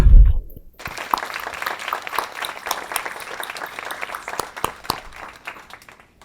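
Audience at a VA Northeast Ohio Healthcare System quarterly awards ceremony applauding an honoree, a dense, steady round of clapping that rises after a brief thud and carries on for several seconds.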